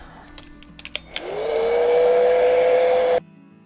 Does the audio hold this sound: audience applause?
no